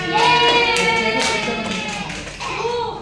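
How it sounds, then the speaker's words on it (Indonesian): A group of people in a classroom claps together in a brief burst of applause, close by, fading after a few seconds, with voices mixed in. "Tepuk tangan semuanya."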